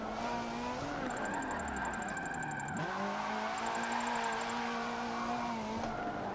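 Ferrari 458 drift car in Forza 7 lapping a course, with a steady high engine drone that dips and climbs again as it shifts, plus continuous tire noise, loud and close throughout.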